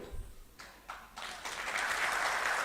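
Applause from an audience at a social justice conference in New Delhi builds from scattered claps into a steady, dense wash of clapping that continues to the end.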